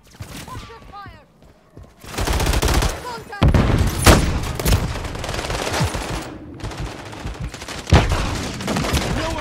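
Heavy gunfire in Call of Duty Modern Warfare III multiplayer, loud rapid automatic bursts and sharp individual shots in several volleys with short pauses, voices calling out between them.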